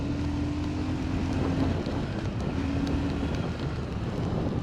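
A Hero Super Splendor Xtec 2.0 125cc motorcycle rides at speed, giving a steady engine drone mixed with wind buffeting against the microphone, with no talk.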